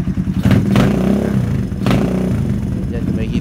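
A Suzuki GD110 motorcycle engine with a Mikuni PWK 28mm flatslide carburetor idles loudly up close and gives quick throttle blips, rising briefly in two short revs and then once more.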